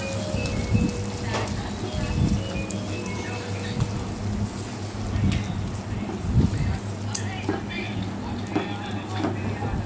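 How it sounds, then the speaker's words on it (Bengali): Yardlong beans with shrimp frying in a pan, a continuous wet sizzle and crackle with irregular scraping bursts as the mixture is stirred, fairly close and steady throughout. "আমি ভালোভাবে নেড়ে চড়ে এটা আমি ভেজে নিচ্ছি"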